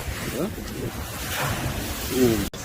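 Strong ocean waves wash onto the shore under gusting wind that buffets the microphone, with faint talk mixed into the roar.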